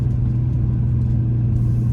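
Inside the cabin of a 2005 Dodge Ram SRT-10 Viper Commemorative Edition pickup, the engine and intake give a loud, deep, continuous roar that holds steady without a break.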